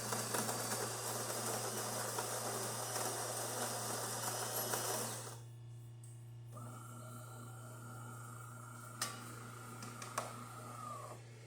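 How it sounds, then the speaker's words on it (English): DeLonghi Magnifica S espresso machine, freshly serviced after a leak repair, pulling an espresso shot: a loud steady pump drone with a low hum, then a quieter brewing hiss with a couple of sharp clicks near the end. "Make espresso shot on it"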